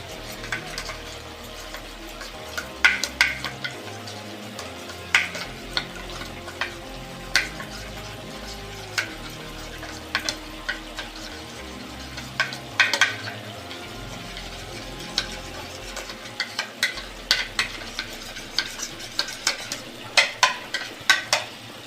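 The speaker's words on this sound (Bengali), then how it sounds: "1 চামচ নিয়ে এই ঝোলটার মধ্যে আমি গুলে নেব।" Rice flour being stirred into a simmering fish curry gravy, with steady bubbling and a run of repeated spoon clinks and scrapes against the pot, near and without talk.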